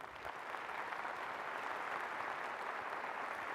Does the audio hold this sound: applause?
yes